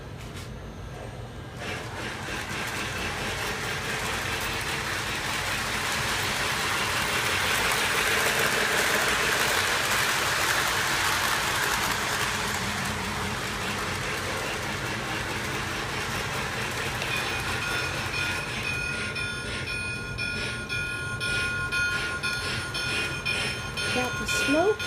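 A Lionel Pennsylvania model train runs on its track, a continuous close mechanical whir and rumble of the motor and wheels that swells and settles, with people talking over it.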